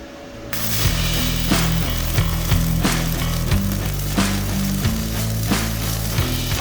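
Stick welding on 14 gauge steel with a 1/16-inch 6013 rod at 60 amps on a YesWelder MIG-205DS-B: a steady, dense crackle with frequent sharp pops over a constant low machine hum, starting after a brief quiet moment.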